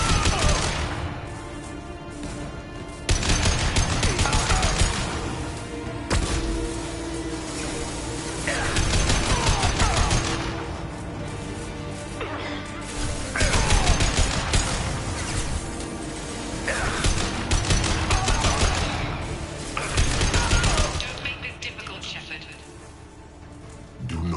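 Repeated bursts of heavy gunfire in the Mass Effect 2 video game, loud volleys coming in waves with short lulls between them, mixed with combat effects and occasional voices.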